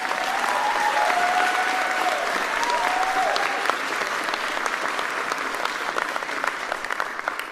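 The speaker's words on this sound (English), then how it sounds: "Let's give them a round of applause." Steady round of applause from an audience at a university scholarly excellence awards ceremony at Hofstra, continuous even clapping from a large crowd with a faint tone briefly audible early on.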